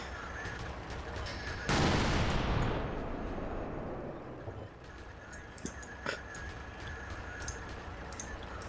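Artillery shells from a fire mission land in a Combat Mission Black Sea battle: one sharp, loud broadband blast with a long rumbling decay, then scattered faint distant thuds over a low ambient hum, while a crow-like caw sounds briefly.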